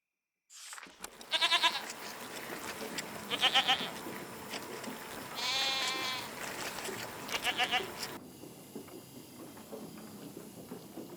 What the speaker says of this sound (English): Somebody bred tons of goats during the golden season because they used to annoy the tourists.